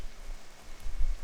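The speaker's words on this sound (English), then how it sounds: "The rain going on right now." A video game weather effect plays a steady, soft hiss of falling rain with a low rumble beneath, continuous and even, with no voices over it.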